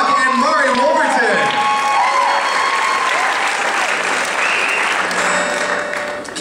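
Live audience at a small music performance bursts into sustained applause with cheering and whoops, a dense, loud wash of clapping that holds steady and tapers slightly at the end.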